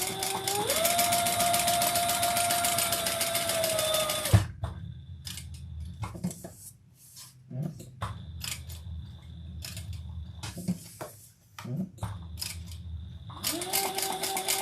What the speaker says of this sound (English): let's sew down each side